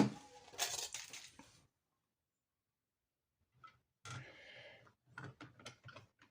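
A die-cutting machine runs with a grinding, ratcheting mechanical whir in two close passes separated by a silent gap, the second with uneven clicking pulses.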